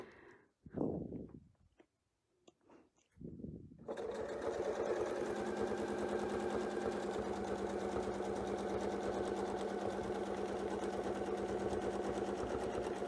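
Sewing machine overstitching a seam, starting after a few seconds of quiet handling noises and then running steadily and loudly at a fast, even pace to the end.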